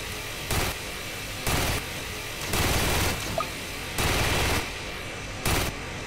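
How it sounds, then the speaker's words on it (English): A Gatling gun fires in Tower Defense Simulator in five separate rapid bursts about a second apart, loud and rattling over a steady background hum, with no talk. "The Gatling gun, sorry. I keep calling the Gatling gun a turret."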